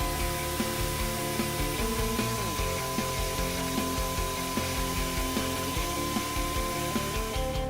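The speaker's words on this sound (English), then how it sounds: "Use a grinder tool to widen the access hole." A grinder tool widens an access hole in the frame rail of a 2017-2018 Subaru Forester during a CURT 12100 trailer hitch installation, giving a loud, steady, close whirring grind with a slightly wavering pitch.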